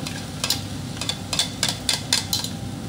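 Crabmeat fried rice sizzles in a pan while a spatula scrapes and taps against the metal in quick repeated strokes as an egg cooks in the middle.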